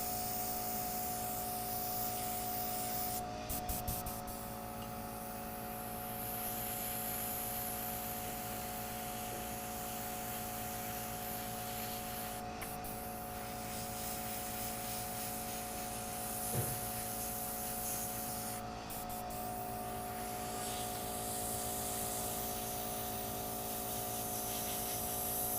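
A fine airbrush-style spray hisses steadily as special-effects makeup is sprayed onto a face, a soft continuous mist close by, with a few brief louder bursts and no voices.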